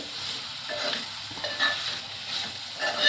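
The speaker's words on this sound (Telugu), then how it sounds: "ఇప్పుడు మనం స్టీమ్ చేసి పెట్టుకున్న ఈ ఎగ్ పీసెస్ని మొత్తం అంతా కూడా ఇందులో వేసుకొని చక్కగా కలుపుకుంటున్నానండి" Steamed egg pieces are stirred through a tomato curry in a pan, giving soft scraping and stirring strokes over a gentle sizzle, in a few uneven bursts close by.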